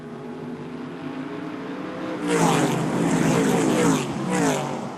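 Modified race cars roar nose to tail on a short oval track, engines droning steadily at first and then swelling loud as the pack sweeps close by, with a crowd-like wash underneath.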